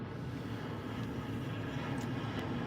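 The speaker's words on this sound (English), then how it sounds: "like this plane" An airplane passing overhead produces a continuous low droning rumble that holds steady throughout, with faint higher ticks on top and no speech.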